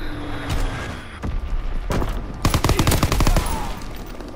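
Game gunfire from Call of Duty WWII crackles in sharp single shots followed by a fast automatic burst, loud and close, with a steady battle din underneath.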